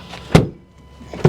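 A 2024 Ford Ranger pickup door slams shut twice, outdoors on a quiet day, two solid thuds about a second apart and close by.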